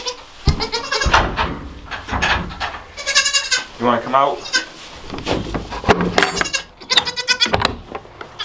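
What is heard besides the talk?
goat bleating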